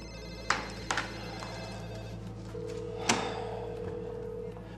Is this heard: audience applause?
no